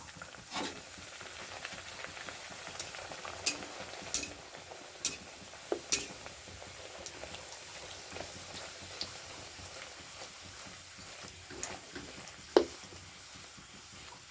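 Dhakai paratha frying in hot white oil gives a steady, quiet sizzle with occasional sharp pops and crackles, close by and without voices.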